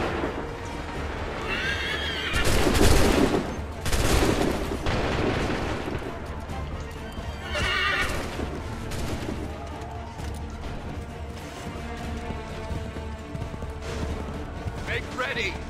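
Soldiers' musket volley booms out in an Assassin's Creed III battle, a loud broadband crack followed by another burst, mixed with horse whinnies and shouted voices amid steady battlefield noise.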